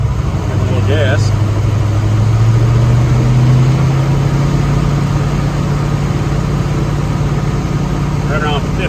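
A car engine held steady and given a little gas during an oil pressure gauge check, a loud, close drone whose pitch rises slightly and then holds for the whole stretch.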